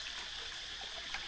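Water is scooped and poured into a gourd in a traditional village in Savannakhet, Laos, a soft steady trickle and splash running continuously at low volume throughout.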